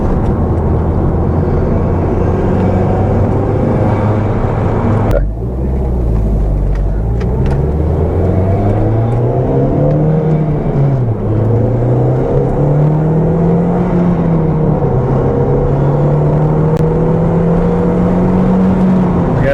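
Audi TT MK1 turbocharged road car accelerating hard on an open road, engine drone rising steadily in pitch through a gear, a brief dip near five seconds suggesting a shift, then a continuous loud interior-style engine note with no talk.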